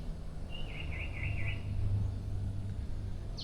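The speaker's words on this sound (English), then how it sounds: "And you can hear all the birds in the background." Birds chirp near a balcony beside the jungle in Krabi, with one clear warbling call standing out briefly over a steady low hum of background noise.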